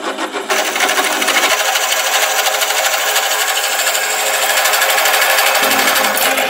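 Solar-powered drill boring a 9/16 inch (14 mm) hole through 3/8 inch steel for leaf spring shackles, a loud, steady high-pitched grinding whine after a brief start, continuing without a break.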